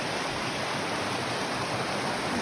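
Stream water flows along the Appalachian Trail in Pennsylvania, a steady close rushing hiss with no pauses and no voices.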